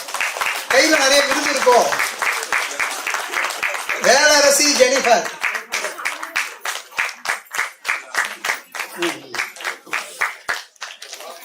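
An audience at a Tamil award ceremony gives bursts of rhythmic clapping, first under an announcer's voice and then as steady separate claps that continue after the talking stops.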